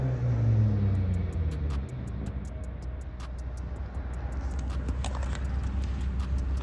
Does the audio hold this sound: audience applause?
no